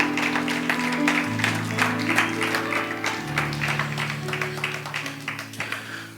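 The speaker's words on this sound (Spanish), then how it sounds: "Denle palmas a nuestro Rey." A church congregation claps for a Father's Day honoree during a Spanish-language service, the applause sounding under sustained organ or keyboard chords that shift in pitch and fading slightly toward the end.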